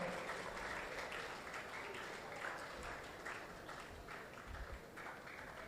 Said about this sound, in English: Please put a round of applause as we welcome him.